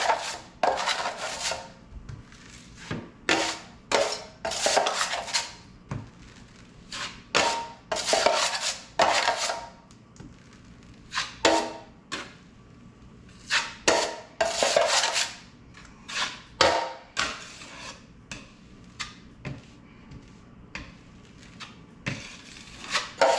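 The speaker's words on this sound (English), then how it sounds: "It's just hard to get out of the pan when you only have a little bit of mud with that big knife." A putty knife scraping drywall mud out of a pan, repeated rasping metal strokes in irregular bursts with short gaps between them, close and fairly loud with no talking.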